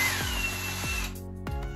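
Cordless lithium-ion power drill whirring steadily at close range, its motor pitch sagging and dipping a few times as it works, with no talking.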